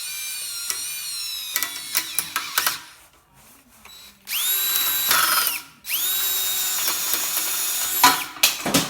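A power drill bores out the small seat of a brake line, its motor whining up in long loud bursts with short ratcheting stops and a quiet pause between runs, no talking.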